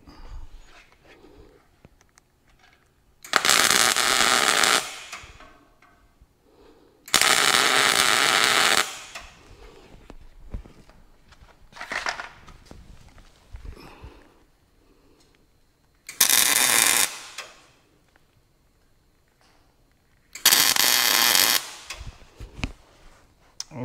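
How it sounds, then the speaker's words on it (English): Welding a spare tire mount onto a utility trailer: four separate crackling, hissing bursts of tack welds, each a few seconds long, with quiet gaps of shop noise between them. "I'm going to go ahead and tack it on there good enough to where I can pull the clamps off"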